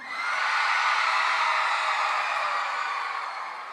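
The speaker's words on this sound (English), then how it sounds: "Can y'all make some noise one more time?" Sustained crowd cheering, screaming and whooping at a daytime STEAM rap battle event, a steady dense roar that holds throughout and eases slightly toward the end, with no distinct talk.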